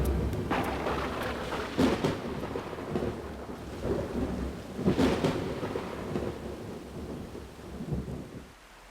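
Thunderstorm with heavy rain over Brazil's flooded plains, a constant roar of downpour broken by repeated rolling thunder rumbles, loud and close, with no talk.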